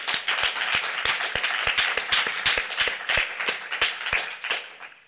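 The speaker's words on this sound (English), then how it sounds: "may I invite you for applause for the both candidates" An audience at an academic award session applauds both candidates, dense sustained clapping from many hands nearby, tapering off toward the end, with no speech over it.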